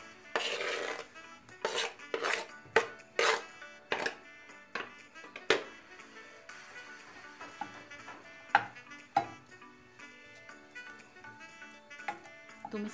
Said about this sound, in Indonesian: Setelah itu tumis sosis yang udah dipotong-potong ini.